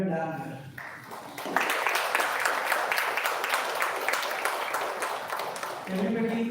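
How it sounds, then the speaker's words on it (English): A school audience at an awards felicitation bursts into sustained applause, dense and steady for several seconds, with voices heard before and after the clapping. "Everybody, the clap should be louder."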